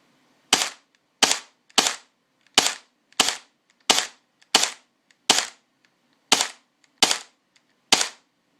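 A KSC HK33K airsoft rifle fires twelve sharp semi-automatic shots at a steady, unhurried pace, each a crisp close crack followed by brief silence.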